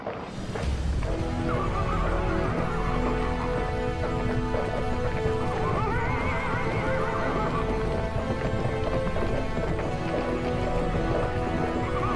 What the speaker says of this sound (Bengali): দারুক, রথ চালাও।